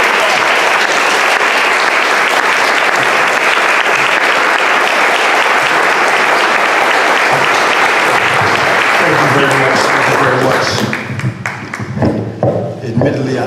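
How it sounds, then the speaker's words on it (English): An audience at a Sojourner Truth memorial celebration bursts into loud, sustained applause that fills the room for around ten seconds before thinning out into scattered claps. "Let us give him a round of applause."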